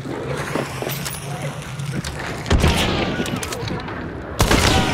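Gunfire in Hunt: Showdown cracks out in bursts, several sharp loud shots with booming tails clustered at intervals, mixed with players talking over the action.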